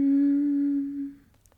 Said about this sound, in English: if you change a note, it's gonna sound like this.